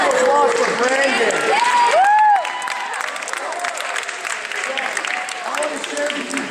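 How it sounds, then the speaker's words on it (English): Applause and cheering from a crowd at a high school Christian athletes gathering, with curved tonal shouts and whoops over dense clapping that drops slightly in level partway through. "Round of applause for Brandon"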